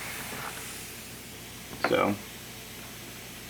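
Spray gun applying 2K clear coat at lowered air pressure, held close to a quarter-scale Spider-Man sculpture: one short hissing burst of about a third of a second, fairly close, with a person talking briefly before it.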